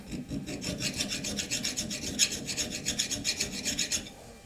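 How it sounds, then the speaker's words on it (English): A hand file rasps across steel in quick, even back-and-forth strokes, about a dozen rhythmic scrapes close up with no talking, shaping a model steam engine connecting rod. "I could probably get rid of it with a file."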